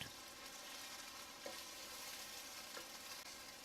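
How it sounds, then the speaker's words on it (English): Minced mutton fries on high heat in a pot with a steady, dense sizzle, a couple of faint stirring knocks, and no voices. "fry it on high heat for at least 5 to 6 minutes."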